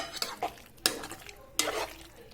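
Cooked Italian white pasta is mixed with oregano in a pan, producing three or four brisk scraping, clattering strokes of a utensil against the pan, close and fairly loud, with no speech.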